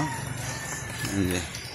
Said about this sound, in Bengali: ওই পাশে সোনালি মুরগি, আর এই পাশে হচ্ছে ব্রয়লার মুরগি